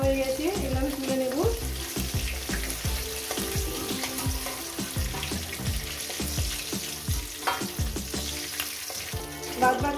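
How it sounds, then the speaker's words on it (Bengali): Loud, close sizzling of gurjali fish frying in oil, with repeated scraping and stirring knocks throughout, and no talking. "তো বন্ধুরা আমার মাছগুলো ভাজা"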